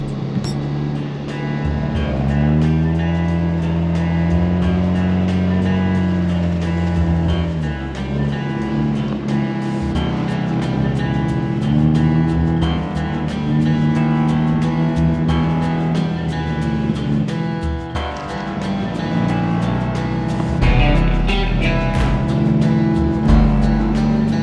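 A Ford Bronco drives through snow, its engine droning loudly and continuously with rising and falling revs, tires churning as it tries to get unstuck.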